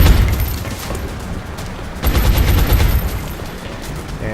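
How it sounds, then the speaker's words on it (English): Suppressing fire in XCOM: a steady stream of automatic gunfire with booming impacts, loud and continuous, intensifying partway through, with no talk over it. "Suppressing fire on target."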